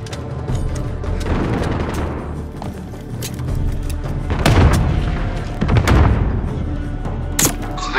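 Gunfire and booming blasts from Call of Duty: Modern Warfare, a dense loud battle mix with several heavy impacts and shots standing out over constant rumble.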